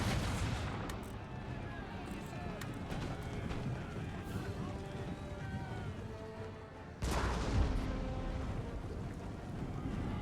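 Cannon artillery fire in the video game Total War: Empire, dense repeated booms and battle rumble throughout, with a sharp loud burst near the end over continuous wind-like noise and faint talk.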